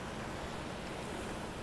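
Sea waves wash steadily along the shore of a seaside tourist zone in old Chimbote, Peru, a soft continuous surf rush heard from a short distance, with light wind and no voices.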